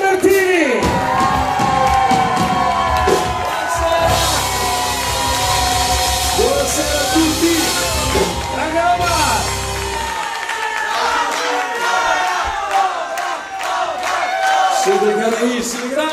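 Discotheque crowd cheering, whooping and shouting loudly in a packed club, with applause and music-like tonal bursts throughout, plus a heavy low rumble for the first ten seconds.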